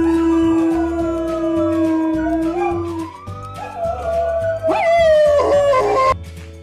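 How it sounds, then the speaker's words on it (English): A jackal howls loudly and close, long wavering wails rising and falling, with yips and whimpering cries joining toward the end, over a low rhythmic backdrop. "at night we hear jackal's howl."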